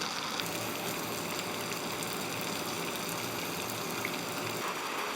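Steady rain falls outside a textile dyeing factory, a dense, even hiss of drops that holds at the same level throughout, with no voices.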